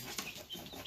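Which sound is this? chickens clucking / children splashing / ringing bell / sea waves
chickens clucking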